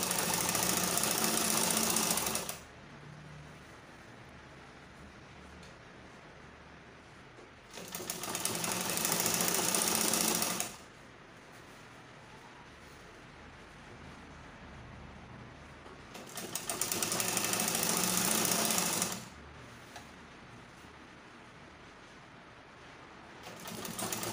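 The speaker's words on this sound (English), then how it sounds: "when you're sewing, you don't drag this upper part too much" A sewing machine stitches a box pleat skirt in three separate loud bursts of rapid whirring, each lasting a few seconds, with quiet pauses between the runs.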